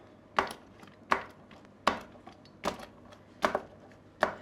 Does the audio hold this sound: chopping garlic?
yes